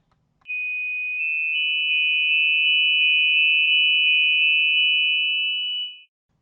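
A single steady pure sine tone sounds from an electronic source, holding for about five and a half seconds alone before fading quickly out.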